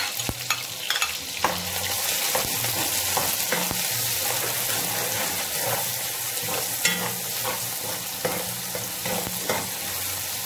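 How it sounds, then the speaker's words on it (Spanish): Spring onion, onion and two garlic cloves fry in a pot for a bean-and-rice dish, a loud, continuous close sizzle broken by sharp clicks of stirring. "Ahorita procedemos a agregarlo al caldero. Esto lo dejamos freír por 2 minutos."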